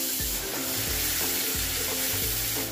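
Chopped onions hit hot oil for a fish curry after nigella seeds, giving a loud, steady sizzle with low thuds and bumps from stirring throughout.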